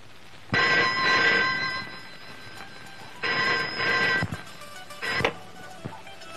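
A telephone rings in a Malayalam comedy scene. Several fairly quiet bursts of bright, warbling ringing are separated by short pauses, and a shorter ring and a knock come near the end.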